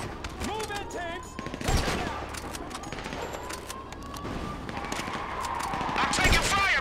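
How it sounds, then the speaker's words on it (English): Rapid gunfire and bursts of automatic weapons in a GTA V battle on a bridge beside a ship, with tanks moving in, crackling continuously under shouted voices and game noise. "I'm taking fire, man!"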